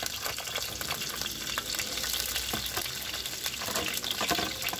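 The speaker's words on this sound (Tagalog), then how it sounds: "pag napainit na natin yung nalagay na mantika, ilagay na natin itong sibuyas at bawang." Garlic fries in hot cooking oil with a steady, dense crackling sizzle that holds evenly throughout, with no talk.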